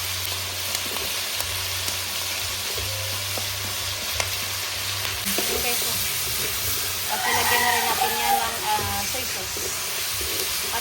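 Carrots sizzling in a pan while cooking a home-style chopsuey, a steady frying hiss that swells and crackles louder partway through, with a low background hum.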